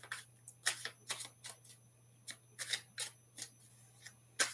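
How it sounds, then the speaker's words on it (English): Quiet, crisp riffling and snapping of cards being shuffled, in short irregular bursts with a faint steady hum underneath. "I'm going to shuffle the cards."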